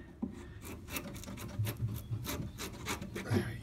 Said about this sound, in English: Just slide the chisel along underneath